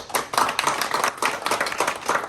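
An audience in the New York State Assembly hall claps steadily, a moderate burst of applause with quick, overlapping hand claps from start to finish.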